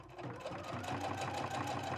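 A sewing machine runs continuously while stitching a seam on a drawstring bag, giving a close, steady rapid whirring hum with a fast even needle pulse.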